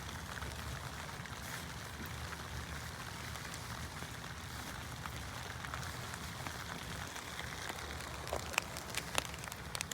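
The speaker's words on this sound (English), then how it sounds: "We got that rain going, so that's even better." Rain falling on a backyard vegetable garden with potato beds: a faint, steady soft hiss of drops throughout, with a few sharper patters near the end.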